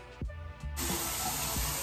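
Water gushes steadily from a tap after a brief pause, a constant hissing spray lasting to the end, close by.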